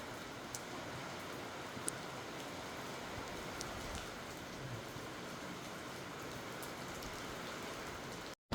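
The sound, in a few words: heavy rain falling on plastic sheet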